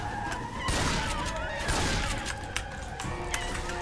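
Rapid gunfire from players shooting at a witch in Left 4 Dead, a dense, continuous crackle of shots throughout, loud and close.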